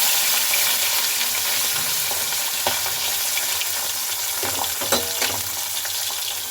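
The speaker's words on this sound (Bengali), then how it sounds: "এদিকে তো মাছগুলো ভাজতে বসিয়ে দিলাম।" Fish, bata coated in salt and turmeric, sizzles and spits steadily in hot oil in a pan, a close continuous frying hiss with a few sharper crackles and pops.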